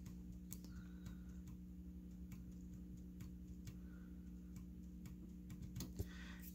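A typewriter key being pressed during a bouncing-key repair, heard as sparse, faint mechanical ticks and clicks over a steady low hum, with a slightly stronger click near the end.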